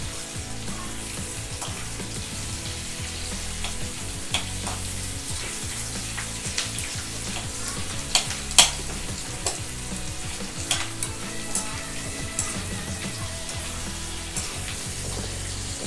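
Finely chopped onions fry gently in a pan, a constant soft sizzle with frequent spatula scrapes and clinks through the whole stretch, close by and without voices.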